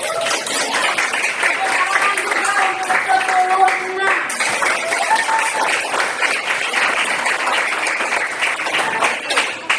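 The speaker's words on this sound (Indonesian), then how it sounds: "tepuk tangan untuk Pemalasari" A classroom of students claps for a classmate after a math answer, a lively burst of many hands with voices mixed in, the clapping thinning briefly midway before picking up again.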